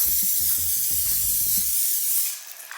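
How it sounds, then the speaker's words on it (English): Pam cooking spray hisses onto a pan in one steady close burst lasting about two seconds, with faint clinks underneath before it tapers off. "now we're just gonna spray the top of the pan so that the cupcake doesn't stick to the top of it"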